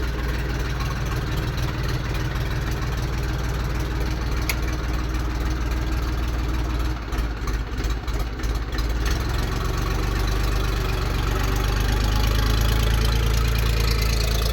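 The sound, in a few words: Belarus 311 two-cylinder tractor engine running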